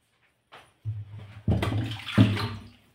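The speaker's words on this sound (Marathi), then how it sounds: "आता ही कढई मी घासायला टाकते" An iron kadhai, just emptied of cooked jaggery puran, is set into a sink to wash with a clunk as tap water starts running and splashing, building into a steady close gush.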